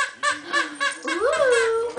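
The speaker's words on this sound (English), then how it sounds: "Where's the squeaky?" A squeaky dog toy squeezed repeatedly in the home on Christmas morning, several short high squeaks followed by a longer drawn-out squeal, close and clear.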